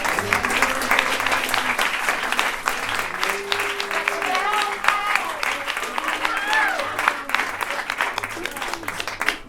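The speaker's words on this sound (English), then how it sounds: "let's give him a round of applause" Audience applause fills a mayoral candidates' meet-the-candidates event, steady dense clapping lasting throughout with some voices and crowd murmur mixed in.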